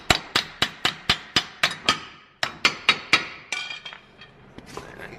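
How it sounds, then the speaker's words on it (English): Hammer repeatedly striking a stuck axle, about sixteen sharp metallic blows in a steady rhythm, loud and close, with a short pause midway and the last few hits lighter and less regular. "hit this guy with the hammer"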